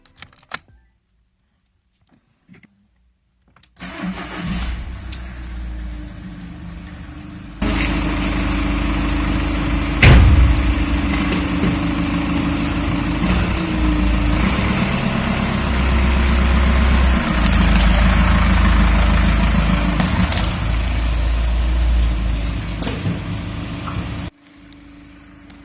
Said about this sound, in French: je suis parti dans le garage, et j'ai allumé la voiture